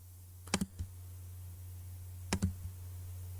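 Computer mouse clicks while sketching a B-spline in FreeCAD: two quick clusters of close, crisp clicks over a low steady hum, a silent gap between them.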